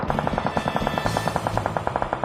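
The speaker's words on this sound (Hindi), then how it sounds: "ये लोग तो गोलियां चलानी रोक ही नहीं रहे।" Rapid machine-gun fire rattles in a steady, fast burst in Battlegrounds Mobile India (BGMI), sharp repeated shots over a dense background with no voices.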